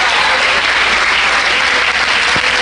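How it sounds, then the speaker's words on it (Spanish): A church congregation at a Holy Week service applauds loudly and steadily, a dense, continuous wash of clapping with no voices over it. "Fuerte los aplausos."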